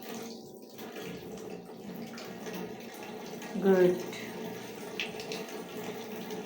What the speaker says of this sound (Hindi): तो पानी नल बंद करो आप।